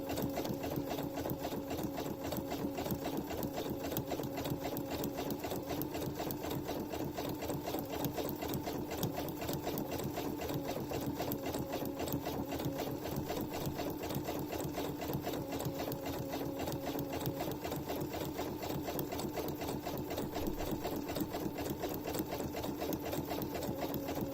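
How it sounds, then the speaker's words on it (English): A sewing machine straight-stitches ribbon trim onto fabric, a fast, even mechanical whir and rapid needle chatter running continuously for over twenty seconds, close and steady with no talk. "So the needle is just stitching in the ditch on the right hand side."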